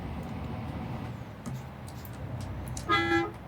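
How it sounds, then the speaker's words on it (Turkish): Engine rumble fills the background, then a short, loud truck air horn blares once near the end, in the video game Euro Truck Simulator 2. "az önce duydunuz zaten havalı kornayı"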